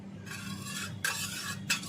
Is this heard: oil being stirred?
yes